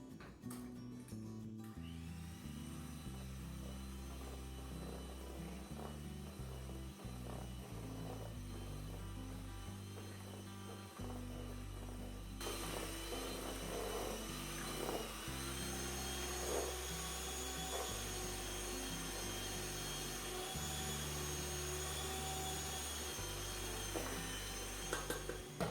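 An electric mixer churns thick oatmeal chocolate chip cookie dough, its motor droning steadily near the mic for the full length, the pitch shifting as the load changes, with no one speaking.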